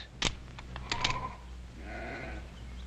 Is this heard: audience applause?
no